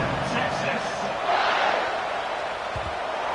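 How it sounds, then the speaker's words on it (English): A stadium crowd in a Madden/NCAA football video game buzzes with a steady, dense roar that swells briefly in the middle, with no clear words on top. "this crowd is buzzing after that last score"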